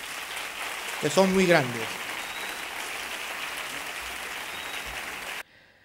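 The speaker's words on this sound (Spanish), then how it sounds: "Pido un fuerte aplauso para los padres y para las madres," Audience applause for the parents at a sports awards gala, a steady broad wash of clapping throughout while someone speaks briefly over it, ending abruptly.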